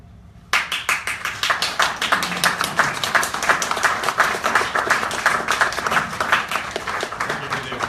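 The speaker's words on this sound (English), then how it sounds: "Thank you for the applause." A burst of audience applause at a reading in a Dallas bookstore starts abruptly and holds steady, many hands clapping in a dense, lively patter with no talking over it.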